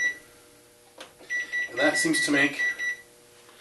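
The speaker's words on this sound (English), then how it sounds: "That beeping you just heard was me setting the stove timer." A series of short electronic beeps from a stove timer, several in quick succession, while a person speaks while removing silver plate by electrolysis.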